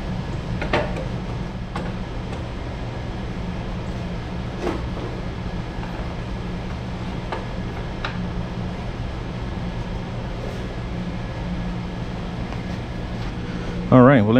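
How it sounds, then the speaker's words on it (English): A workshop fan, set up during welding on a transfer case and blowing off at an angle, gives a steady broadband whoosh and low hum for the whole stretch, with voices and brief clanks over it. "For some reason, this fan shoots off at an angle."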